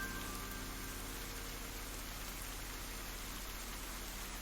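Steady, even rain hiss fills a dark scene in Ender Lilies, a constant wash of falling water at moderate volume with no voices or other distinct sounds.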